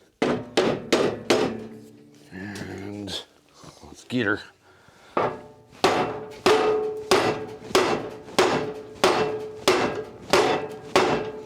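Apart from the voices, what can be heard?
mallet tapping a shaft into a Craftsman LT1000 mower deck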